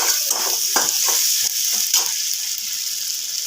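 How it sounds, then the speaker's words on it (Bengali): Masala for a boal fish curry sizzles loudly in oil while being stir-fried, with a steady hiss broken by several scraping strokes of the spatula, close and busy. "খুব ভালোভাবে নাড়াচাড়া করে নেব মশলাটা বেশ ভালোভাবেই কষে কষে নিতে হবে"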